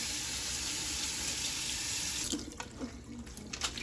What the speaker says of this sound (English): I always take some lukewarm water after I strain them out and I rinse them off.